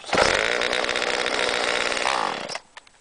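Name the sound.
new Homelite chainsaw running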